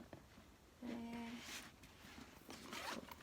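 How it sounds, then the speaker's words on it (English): Zipper on a Louis Vuitton Escale Neverfull MM bag, opened and closed in a few short, close rasping pulls with a brief tonal hum in between, heard alone without talk. "cute little zipper."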